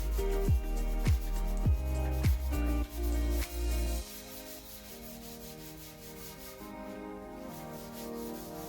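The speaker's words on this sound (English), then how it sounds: "then I went over the whole thing again with 400 grit, I believe, and then gave it all a good key for another priming" Hand sanding a Suzuki RG125 petrol tank with 400 grit paper: steady back-and-forth rubbing strokes, rhythmic and close, with a few sharper swipes early on, then smoother continuous rubbing.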